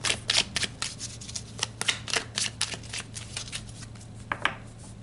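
Tarot cards are shuffled up close in quick, crisp bursts of riffling and slapping, repeating rhythmically over a faint low hum.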